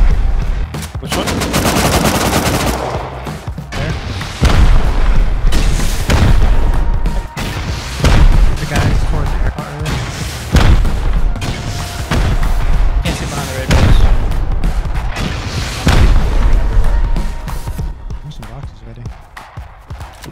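Heavy gunfire and booming blasts during a base raid in the survival video game Rust, with loud repeated bursts and impacts throughout and players talking over the action.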